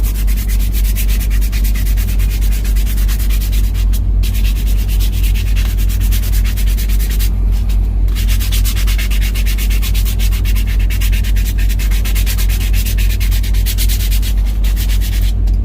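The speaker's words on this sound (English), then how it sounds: "A lot of it's just holding sandpaper and moving the spoon." A hand-carved wooden spoon is sanded by hand with sandpaper, producing a continuous, close, raspy rubbing with a few brief pauses and no talk.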